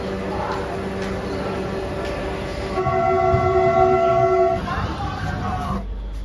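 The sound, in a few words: train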